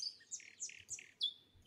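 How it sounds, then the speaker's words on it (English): A rainbow lorikeet calls among blossoming trees. About five sharp, bright chirps come in quick, fairly regular succession, close and clear over a faint background hum. "And among the blossoming trees, he saw a rainbow lorikeet."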